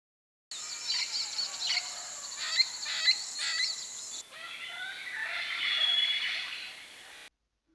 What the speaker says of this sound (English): they make this quite loud, harsh call as well